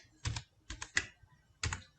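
Java code is typed on a computer keyboard, with four quick, close clusters of key clacks separated by short pauses in an otherwise quiet room.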